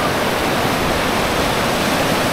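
Loud, steady rushing of a fast-flowing river in Misamis Occidental, Philippines, mixed with the hiss of rain, a constant broadband roar without pauses.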